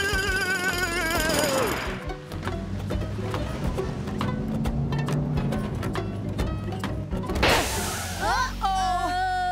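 In a children's cartoon, a drill bores into mountain rock with rapid, loud, jackhammer-like pounding that lasts several seconds. Cartoon sound effects and character voices come just before and after the drilling.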